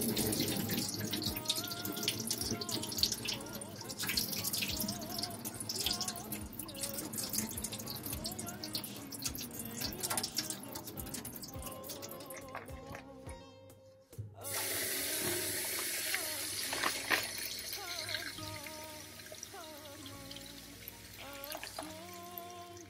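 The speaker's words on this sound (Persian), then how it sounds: "در مدتی که باقالی رو خیس میکنیم، چند بار آب باقالی رو عوض میکنیم." Water runs steadily from a tap into a sink while fava beans are soaked and rinsed. The flow is close and continuous, with a short quieter break midway before it pours again.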